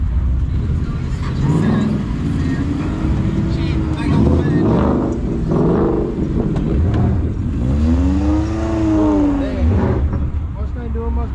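A 6.2-litre Mustang revs repeatedly during a burnout at a car meet, with rising and falling engine sweeps and a long, loud climbing rev near the end. Voices are likely heard alongside.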